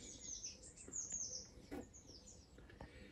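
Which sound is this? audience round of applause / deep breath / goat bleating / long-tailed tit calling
long-tailed tit calling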